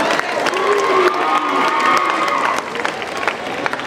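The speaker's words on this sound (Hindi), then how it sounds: "जो पार्टिसिपेट किए हुए स्टूडेंट्स हैं उनके लिए थोड़ा सा हौसला बढ़ाने के लिए तालियां जरूर बजाएं।" Students at a college contest clap and cheer for the participants, a loud, sustained wash of crowd applause mixed with shouts and whoops.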